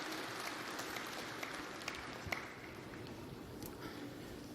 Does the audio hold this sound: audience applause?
yes